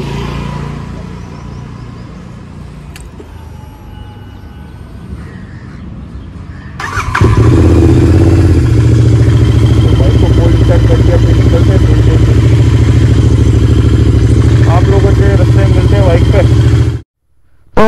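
A motorcycle engine starts without a cold-start warm-up and then runs at a loud, steady idle, preceded by quieter background sound and speech.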